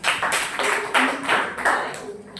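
A short round of clapping rises and falls in a few quick swells of applause, fairly close and even, with no one speaking.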